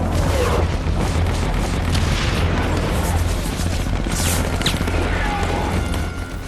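Battle on a white coral runway, with large enemy shells, mortars and machine guns going off in a dense, continuous roar of booms and gunfire that is loud throughout.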